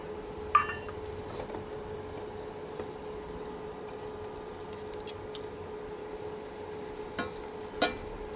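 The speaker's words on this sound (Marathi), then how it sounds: "तूप गरम झाले की त्याच्यामध्ये गूळ घाला." Jaggery being stirred in hot ghee, a faint soft sizzle with a steady hum and occasional light clinks of the spoon against the pan.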